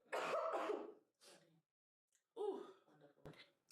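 A couple of harsh, throaty coughs up close, separated by a short pause, with a sharper hack near the end.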